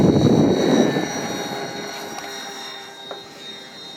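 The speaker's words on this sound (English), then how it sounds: "that thing's really zipping along like a good MU-2 should" A Mitsubishi MU-2 twin turboprop flies past near St. George, a steady engine roar with turbine whine that starts strong and gradually fades as the plane moves away.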